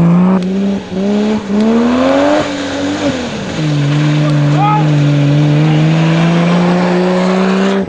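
An off-road race vehicle, the Z9 competing in the Molopo 250 off-road race, drones past with a loud, continuous engine note that climbs and dips as it shifts, while a commentator talks over it.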